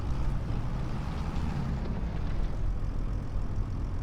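A farm tractor engine in Farming Simulator 25 drones steadily in the foreground, a loud, even low rumble with a windy broadband hiss and no talk.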